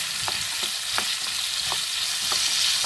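Food frying in oil until caramelized, stirred steadily: a constant close sizzle punctuated by several soft scraping strokes of a spoon against the pan.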